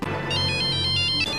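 A telephone ringtone plays, a short bright electronic melody of repeated trilling notes, loud and close, with no talk over it.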